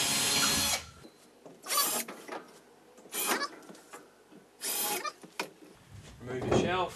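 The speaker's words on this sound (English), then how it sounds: "Grab our drill," A power drill bores holes during a linen cupboard shelf installation, whirring in several short bursts of about a second each, with quieter gaps and brief talk between.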